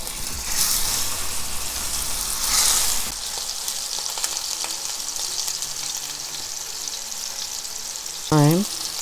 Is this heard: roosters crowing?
no